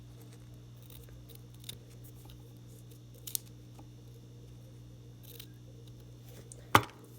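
Scissors trim glued ear muffs for a small doll, a few faint snips spaced apart over a low steady hum, ending in one sharper, louder cut.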